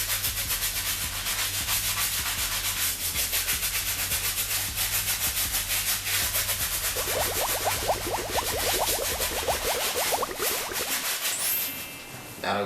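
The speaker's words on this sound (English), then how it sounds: "Gonna switch to a softer brush, which will be the medium bristle, to get into those grooves that the stiff bristle brush can't reach." A medium bristle brush scrubs the lathered outsoles of Nike metallic red Foamposite sneakers, a close, continuous rhythmic scratching with rapid back-and-forth strokes that quicken briefly near the end before stopping.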